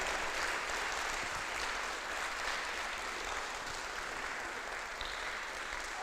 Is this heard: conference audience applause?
yes